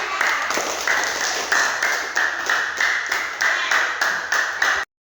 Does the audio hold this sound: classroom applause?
yes